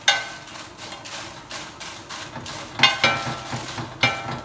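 Dried chiles de árbol and tomatillos toasting in a pan, with soft sizzling and repeated light scrapes and taps as they are stirred and turned. Several sharper clinks stand out near the end.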